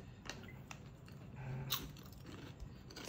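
Crisp crunching of Lay's potato chips being chewed close up, a few sharp bites followed by steady munching, with no talking.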